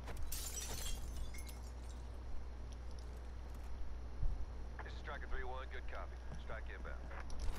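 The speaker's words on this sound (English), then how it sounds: "Who's breaking glass?" Glass shatters in a multiplayer shooter video game, a brief crash over steady background game noise, followed by people talking.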